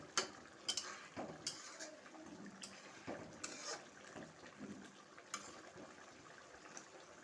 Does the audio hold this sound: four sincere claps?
no